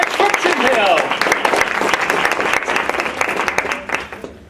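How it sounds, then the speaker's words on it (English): Audience applause at a court reporter seminar, many hands clapping with crisp individual claps audible, loud at first and slowly thinning out, with a few voices underneath. "a nice round of applause for Carrie McHugh Transcription Hill."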